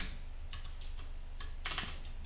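Keystrokes on a computer keyboard while JavaScript code for a button click event is typed, coming in quick irregular bursts of clicks, close and fairly quiet, with no talking.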